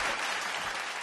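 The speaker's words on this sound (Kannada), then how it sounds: "ಅದಕ್ಕೊಂದು ಚಪ್ಪಾಳೆ" Audience applause on a Kannada TV reality show set, a dense steady wash of clapping from many hands, held at an even level throughout without pause.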